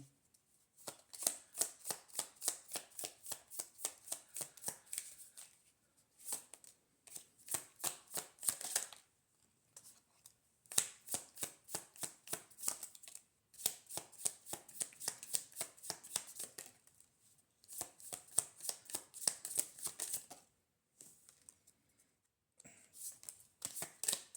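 A deck of question cards riffled and shuffled repeatedly, bursts of crisp rapid flapping clicks lasting several seconds each, separated by brief pauses, close and clear with no talking.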